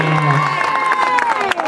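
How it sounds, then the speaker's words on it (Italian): Crowd applauding and cheering for prize-winning sports clubs at a cross-country running event in Rogeno, a dense sustained clatter of clapping with shouts, loud and close throughout. "Un bel applauso finale alle sei società premiate"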